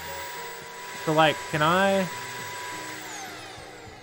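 A vacuum cleaner weapon in the video game Kill It with Fire gives off a steady whirring hum throughout, with a person talking briefly over it.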